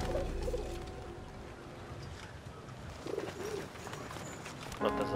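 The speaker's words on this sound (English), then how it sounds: "He's a little male pigeon." A male pigeon coos in the war game Valiant Hearts, a few soft low coos over a steady outdoor ambience, with no talking.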